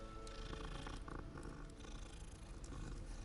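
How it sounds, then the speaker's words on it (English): A cat purrs steadily as it is petted in the Hogwarts Legacy video game, a dense continuous rumble with game sounds layered over it. "You can almost never not pet the cats."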